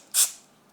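A single short burst of lubricating spray aimed through a fitting onto nitrile O-rings in a compact watercooled PC build. It gives a quick close hiss of about a tenth of a second, then fades to quiet.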